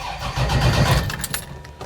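Car engine cranking over on a newly installed IMI Hi Torque starter, a loud continuous churning rumble with a rough low-end grind that holds steady for about two seconds, close up with no talking.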